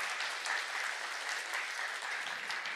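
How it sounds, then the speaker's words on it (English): Church congregation clapping their hands in praise during a sermon, a steady, dense wash of applause from many people that holds at an even level throughout. "I wish you would clap your hands and give God praise for that."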